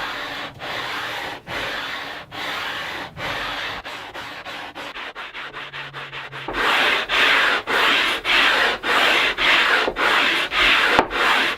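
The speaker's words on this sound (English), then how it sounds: "Now using some adhesive back sandpaper on a radius block, I'll begin the process of hand sanding the radius into the neck." Sandpaper stuck to a radius block rubs by hand along a wooden guitar neck in steady back-and-forth strokes, about one per second, close and dry, growing louder and coarser partway through.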